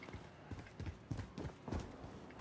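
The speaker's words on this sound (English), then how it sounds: "I hear footsteps." Footsteps in a video game inside a police station, a series of soft, hollow thuds at an uneven walking pace, fairly quiet and close with faint background tone.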